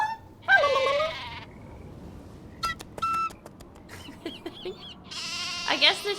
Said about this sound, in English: I guess the sheep are just trained to hear the whistle.